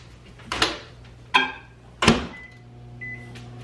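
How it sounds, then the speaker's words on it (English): A kitchen microwave oven melting butter: three sharp door and button clunks, then a low steady hum with two short electronic beeps near the end. "Quickly putting that in the microwave there."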